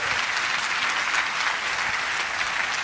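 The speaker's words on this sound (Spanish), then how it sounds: "Le podemos dar un aplauso a ese poderoso Señor." A church congregation claps for the Lord during a sermon, a steady, full wash of many hands that stays even and close throughout with no voices on top.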